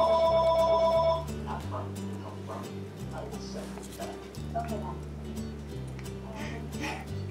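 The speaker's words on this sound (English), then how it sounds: "the dang-on phone rings" A telephone ringing indoors, a short electronic ring at the very start that stops after about a second, then gives way to low background sounds with a faint dog-like whimper.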